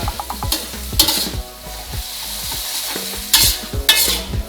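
Chicken and cumin stirred in a frying pan, crisp sizzling broken by repeated scraping strokes of a spatula, with several louder bursts of hiss, close up and with no talking.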